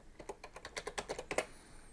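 A computer keyboard being used to type a login and password into a Raspberry Pi, heard as a quick, close run of about a dozen crisp keystrokes lasting just over a second, with no talking.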